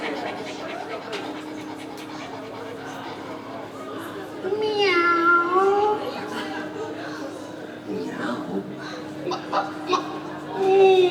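A voice imitates a cat's meow with a rising then falling mewing sound, amid a low steady hum and some talking around it.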